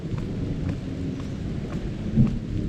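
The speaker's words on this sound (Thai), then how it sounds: "ตอนนี้ฟ้าก็ร้องด้วย นี่เลยรู้ทุกคนได้ยินเสียงฟ้าร้องหรือเปล่านะครับ" Low thunder rumbles on and off beneath steady, dense rainfall, the storm sounding distant but continuous throughout.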